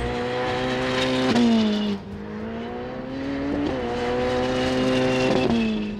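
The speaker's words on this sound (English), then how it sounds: "then you stomp on it here. And here we go, gas on." A 2018 Ferrari 488 Pista accelerates hard from inside the cabin, its engine note climbing steadily through several upshifts with brief dips between gears, loud and continuous with no talking.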